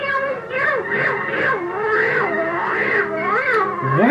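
A cartoon cat yowls in Steamboat Willie, loud, wavering, pitch-bending cries running continuously over about four seconds with a musical, squeaky tone and no talk.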